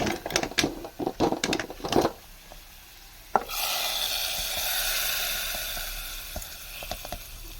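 Several quick scraping clinks of a spoon on metal, then fried shallot tempering is poured hot into okra curry, setting off a steady, loud sizzle that continues and slowly fades.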